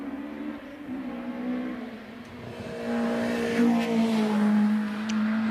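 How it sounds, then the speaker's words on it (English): A rapid 2-litre Caterham 7 race car on a hill climb run, its engine note holding steady and then rising as it accelerates hard, loud and fairly close, with no voices. "Rapid 2-litre Caterham 7."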